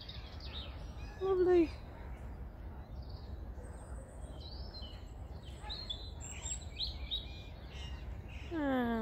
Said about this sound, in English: you can hear beautiful birdsong everywhere.